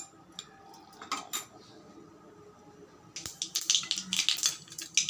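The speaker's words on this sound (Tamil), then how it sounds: "கடுகு சேர்த்துக்கலாம்." Mustard seeds hit hot oil in a pan with a few sharp clicks and pops at first, then a denser burst of crackling and sputtering, close and fairly faint.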